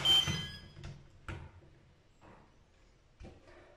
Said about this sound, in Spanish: y se cierra la puerta